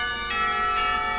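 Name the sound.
school bell ringing in Katawa Shoujo visual novel game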